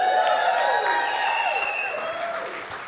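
Theater audience at a stand-up comedy show breaks into dense applause and cheering close by, a steady wash that gradually fades over a few seconds with no one speaking.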